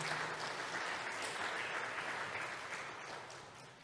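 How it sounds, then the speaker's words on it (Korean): A congregation at a Korean church celebration service claps for an honored elderly couple and their family, a faint, even wash of many hands that gradually thins toward the end. "행복하시라고 박수를 보내주시면"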